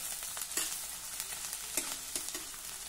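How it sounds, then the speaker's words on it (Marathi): Chopped onion and green chilies fry in a hot pan for a spiced sprouted moth-bean tempering, giving a steady close sizzle broken by occasional scraping stirs. No one speaks. "हे बघा, कांदा मिरची जरा परतून झाली।"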